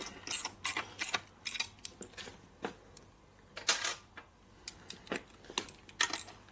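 Ratchet tightening head bolts on a 1977 Harley-Davidson XLCR 1000cc Ironhead Sportster engine during a rebuild, uneven bursts of close ratcheting clicks and clanks with short pauses between strokes.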